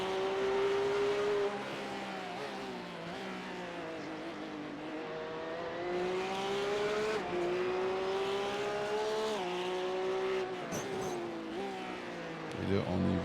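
A Porsche Cup race car at speed on a circuit, its engine rising and falling through gear changes as it brakes and accelerates through corners, loud and steady, with a commentator talking over it.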